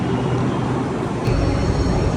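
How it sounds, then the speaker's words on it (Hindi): A metro train rumbles into a station with a dense, steady low roar and hiss that swells slightly near the end, heard close and loud with no talk over it. "मेट्रो आ गई हमारी"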